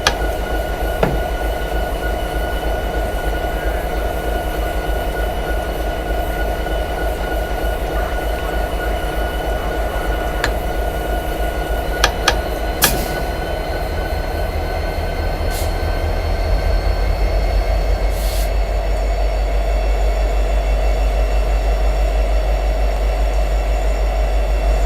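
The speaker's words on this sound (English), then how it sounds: "Congratulations on driving Locomotive." A diesel locomotive in Train Simulator 2016 runs with a steady, heavy rail rumble, scattered metallic clicks and squeaks, and a deeper, louder drone building in the second half.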